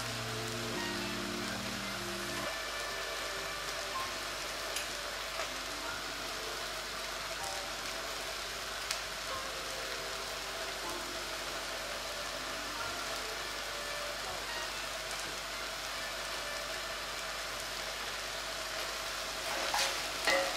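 Button mushrooms frying in a pan give a steady, soft sizzle that runs the whole time at an even, low level, with faint clinks of stirring near the end.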